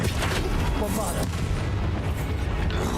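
A Bombarda spell explosion in Hogwarts Legacy fills the whole stretch with a dense, loud, rumbling blast and crackle, continuous from start to finish.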